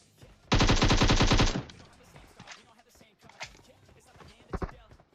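A rapid, loud burst of automatic gunfire from the PUBG video game lasts about a second, followed by scattered quieter shots while a commentator talks over the gameplay.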